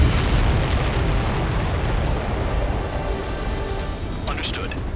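Fuel tankers blow up in the Ace Combat 7 video game during a pipeline destruction mission, a dense, roaring wash of explosions and fire that starts loud and slowly fades over several seconds.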